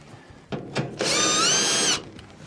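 A power driver whirs briefly, backing out a screw from the blower housing of a Whirlpool dryer; a couple of short clicks lead into about one second of steady high whine, close and alone.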